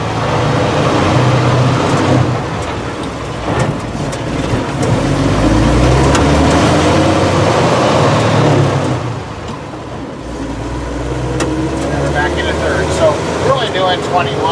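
A 1954 Dodge M37 Power Wagon military truck with a flathead six on a road drive, its engine droning loud and close with rising and falling revs through gear shifts, someone talking over the cab noise.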